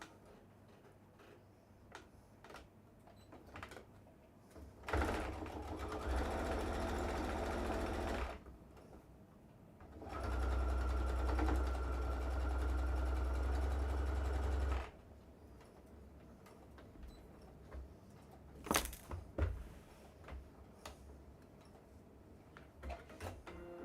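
A sewing machine stitching fabric in two steady bursts, each a few seconds long, with a short pause between and quiet handling noises after.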